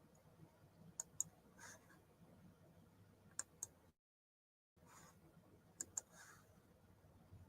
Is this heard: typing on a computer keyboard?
yes